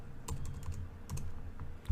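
Soft, scattered keystrokes on a computer keyboard, a handful of quiet clicks at an irregular pace with nothing else heard.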